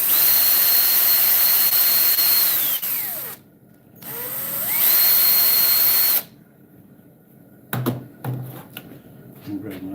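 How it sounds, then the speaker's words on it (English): A power drill whines loudly at high speed in two long bursts while pre-drilling a hole, spinning down between them, followed by a few clicks and handling sounds. "Then I'm going to pre-drill that spot,"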